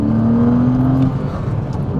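A Porsche Cayman 987 flat-six engine revving hard with a steady droning note that drops away after about a second, close and loud.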